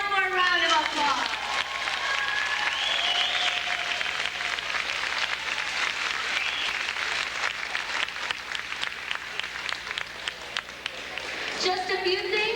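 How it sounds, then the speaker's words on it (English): Parents and families applaud first graders after their dinosaur musical in a school venue, sustained clapping with cheers and excited children's voices rising over it, tapering briefly before voices return at the end. "so let's give them one more round of applause."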